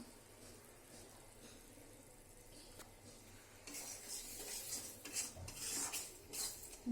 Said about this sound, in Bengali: মাংসটা এখন তরকারিতে দিয়ে দিই